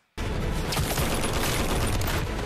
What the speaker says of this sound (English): Oh, and then he's gonna shoot.